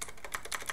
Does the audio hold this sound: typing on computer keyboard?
yes